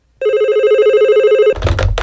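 A cordless home telephone rings as a radio sound effect: one loud, even electronic ring lasts just over a second, then cuts off into a clatter of scraping and shuffling noise.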